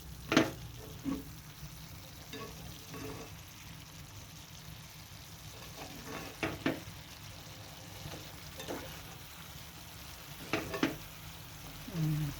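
Tofu and snow peas stirred and fried in a pan, a steady low sizzle broken by scraping strokes of the spatula and short bursts of clatter, fairly quiet and close, with no talking.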